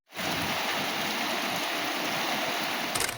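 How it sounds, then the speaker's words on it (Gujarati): Rain falls steadily on a rainy day at home, a constant loud broadband wash of water that sets in almost at once and continues without pause, with no voices. "એવો વરસાદ પાછો ચાલુ છે"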